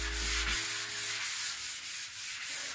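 Sandpaper rubbing over a freshly painted furniture finish being blended in two tones, a close, loud, even hiss in repeated back-and-forth strokes with a steady rhythm.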